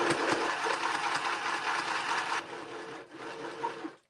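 A sewing machine stitches through a fabric-backed paper journal page, a fast close whirring buzz that runs steadily, drops in tone, pauses briefly, then resumes before stopping.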